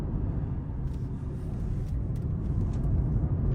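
A BMW M8 Competition's V8 engine drones as a steady, low rumble heard from inside the moving car, constant and moderately loud with no talking.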